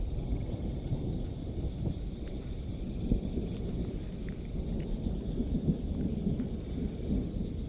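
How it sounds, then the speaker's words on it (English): An April storm passing overhead gives a continuous low rumble of thunder under steady rain, with a few faint drips and taps, heard outdoors with no talking. "Storm's still right above me, but it's pretty much gone."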